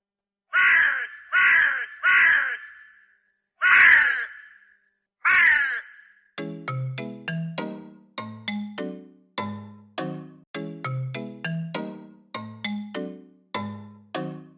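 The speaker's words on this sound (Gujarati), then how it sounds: "આટલું કહીને કાગડો જોર જોરથી રાડો નાખવા લાગ્યો." Cartoon crow cawing loudly, first in a burst of three harsh caws, then two more, followed by a fast run of bright, bell-like chiming tones.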